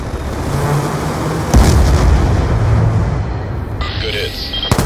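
Call of Duty Black Ops A-10 Warthog airstrike: a continuous loud rumbling roar of explosions and cannon fire with a heavier boom near the middle, while a voice talks over the top.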